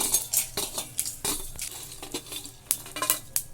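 Cumin and fenugreek seeds dry-roasting in a pan for curry leaf powder, heard as close, uneven scrapes and light metallic clinks of a spoon stirring the seeds, with no sizzle and no speech.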